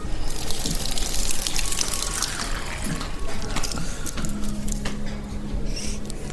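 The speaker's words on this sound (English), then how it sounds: "I think I'm going to drink the thermal water." Thermal spa water at a Budapest spa hotel runs steadily from a tap, a close, continuous splashing flow with no pauses.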